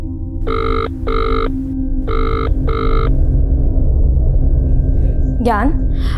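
A telephone rings in four evenly spaced double bursts and goes unanswered, loud over a low steady hum, followed by a short swooping electronic tone.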